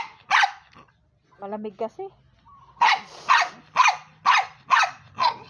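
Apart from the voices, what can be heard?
dog barking and growling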